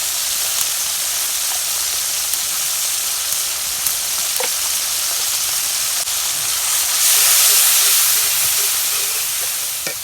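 Spices, turmeric and chilli among them, frying in hot oil for a banana-flower dish, a loud continuous hissing sizzle close by that swells briefly, with faint clicks and no talking.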